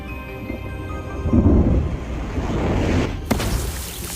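Thunder rolling over grassland just before the rains arrive: a low, swelling rumble that builds and eases over several seconds, then a sudden sharp crack near the end, with faint rain-like hiss underneath and no talking.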